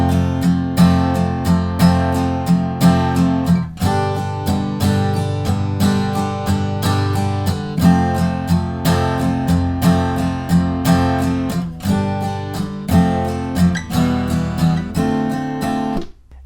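Acoustic guitar strums the chords of a song's bridge in a steady, even pattern. The playing is close and full, with no voice, and the last chord is cut off.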